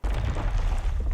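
A cinematic stone impact effect from the Ocular Sounds library, resembling rocks tumbling off a cliff: a dense, loud, sustained low rumble with gritty crumbling texture lasting about a second, alone.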